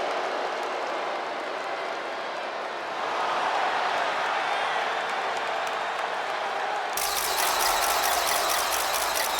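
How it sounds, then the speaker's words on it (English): A home crowd roars continuously for a female wrestler's ring entrance in the WWE 2K25 video game, a dense, loud arena wash that swells partway through as entrance music or effects kick in. "Tiffany Stratton getting a warm welcome from this home crowd."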